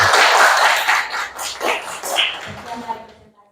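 A classroom group claps for group 3 after finishing their presentation, a dense burst of applause that is loud at first and then thins into scattered claps over a few seconds.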